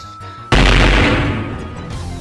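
A loud, sudden blast strikes after a brief quiet, its broad boom lingering and slowly fading like a single close gunshot with reverberant tail.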